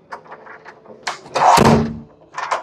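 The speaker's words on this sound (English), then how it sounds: "Now the lock is open." A residential door fitted with a smart lock that takes fingerprint, key or card opens with a few clicks and handle rattles, then a loud mechanical thunk as the door swings, close and alone.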